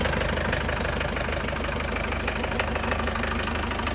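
A restored old tractor engine starts easily and runs steadily, a loud, close, continuous knocking idle with a regular low-frequency beat and no talking over it.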